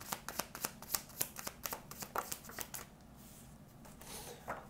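Tarot cards shuffled and handled in a quiet room, a rapid run of crisp riffling snaps for about three seconds, then softer, sparser card rustles near the mic, with no voices.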